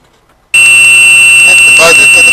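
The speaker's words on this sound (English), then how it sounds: "That's the buzzer for the precharger." Electronic buzzer of an engine oil precharger on a 1967 VW Beetle with a dry cell battery installed, sounding as a loud, steady, piercing tone that starts abruptly and holds, with slight background noise.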